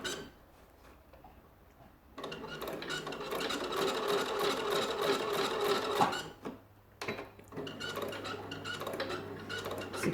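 A sewing machine stitches rows of shirring elastic into chiffon fabric. After a quiet start it breaks into a fast, steady mechanical whirring run, pauses briefly, then starts up again.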